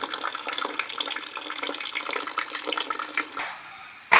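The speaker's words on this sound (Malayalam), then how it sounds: "ചെറിയൊരു ഹോൾട്ടിട്ട് ഈ വെള്ളം താഴേക്ക് കളയുന്നു" Water drains out of a can through a small hole in a steady close trickle and splash, then stops abruptly near the end.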